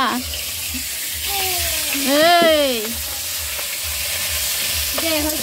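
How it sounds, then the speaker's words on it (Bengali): Fish fries in a pan with a steady sizzle and stirring sounds, while a nearby voice rises and falls over the cooking noise. "এই যে দিদি মাছ ভাজছে, মাছ তো পুড়িয়ে ফেললো"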